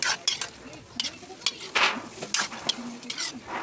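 Chicken in spaghetti sauce cooking in a pan over a wood fire, a soft bubbling sizzle broken by repeated sharp clinks and scrapes of a utensil stirring against the pot.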